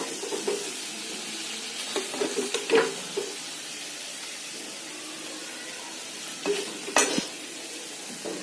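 Goat liver curry being stirred and sautéed in a pan, a steady soft sizzle with intermittent scraping and clinks of a utensil against the pan, close by with no voices.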